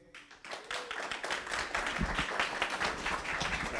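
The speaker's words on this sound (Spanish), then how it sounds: "les pido un aplauso para Cheche" Audience applause for a rap performer at an arts event, starting with a few scattered claps and quickly swelling into a full, steady round of clapping from a modest crowd, heard without talk.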